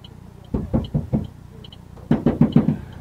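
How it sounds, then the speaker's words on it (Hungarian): Mysterious knocking inside a car played back from a recording: a run of four dull knocks, a pause, then a quicker burst of five sharper knocks, with faint clicking in between. "És itt van ez a rejtélyes kopogás."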